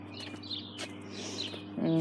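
Birds nesting outside chirp and tweet faintly through a wall, small scattered calls over a low steady hum, ending with a brief louder trill.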